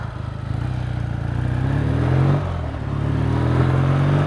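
A Triumph motorcycle engine with AMAL carburettors idles close by and rises in a couple of revs, the throbbing note swelling and settling back, with no talking.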